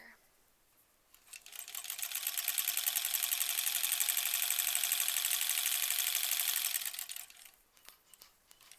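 A sewing machine stitches quilt blocks for a granny squares quilt in one steady, loud, continuous run of about six seconds, with quiet room sound before and after.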